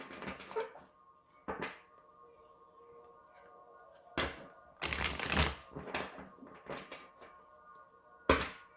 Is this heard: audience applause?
no